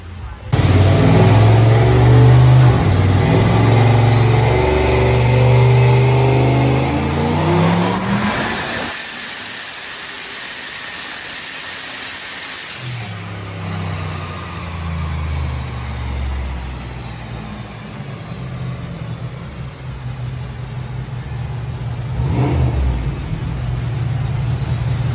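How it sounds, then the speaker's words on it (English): A car engine revs hard on a dyno at a roll-racing event, pulling up through the rpm in a loud climbing roar. It drops away briefly, then returns in a second sustained, high-revving run. "so we're on the dyno."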